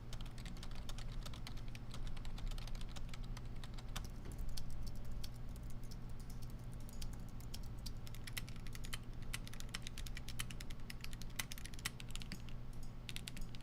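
Rapid, continuous typing on a computer keyboard, with dense, faint key clicks over a low steady hum.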